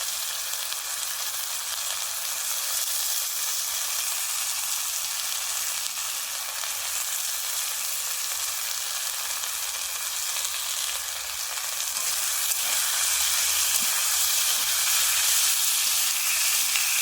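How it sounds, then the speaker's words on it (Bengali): Potatoes fry in hot oil with ginger and garlic for a Bengali fish and potato curry, giving a loud, steady sizzle that runs unbroken throughout. "আলুগুলো একটু ভালোভাবে ভাজা করে নিই।"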